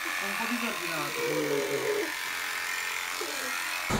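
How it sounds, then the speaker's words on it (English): An old fiber spinning machine runs with a steady buzzing drone in a small family workshop, while voices talk over it for the first half. "There is our spinning machine."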